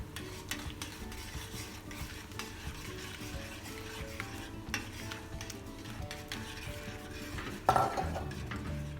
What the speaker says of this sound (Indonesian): Dimasukin telurnya sambil diputer.